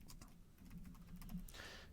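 Soft, quick keystrokes on a computer keyboard while filling in a risk assessment software template, faint and close, with a slightly louder clatter near the end.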